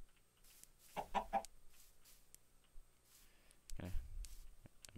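A Minecraft chicken clucks in two short bursts, a quick cluster of clucks followed by another louder cluck a few seconds later, with soft background game sound and a player talking.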